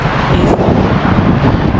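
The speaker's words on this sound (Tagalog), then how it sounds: "Sobrang hangin." Heavy wind buffeting a microphone outdoors in Barrie, a constant loud rumbling roar with no break and no voices.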